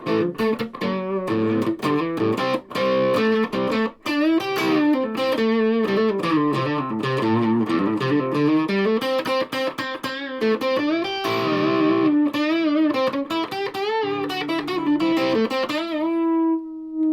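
A heavily distorted Yamaha RGX-A2 electric guitar on the bridge pickup plays a continuous melodic riff with sustained, gritty tones, loud and close, with no voices.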